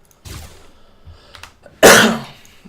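A single sharp, loud cough bursts out close to the microphone after a softer throat noise, then trails off quickly.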